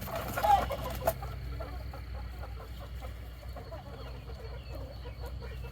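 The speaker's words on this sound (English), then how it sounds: "This one chicken's being a night owl." Chickens clucking softly at night while being shut into their coop, a low steady murmur of short clucks repeating through the clip, with a louder bump near the start and no talking.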